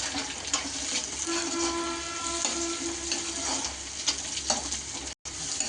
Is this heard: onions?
yes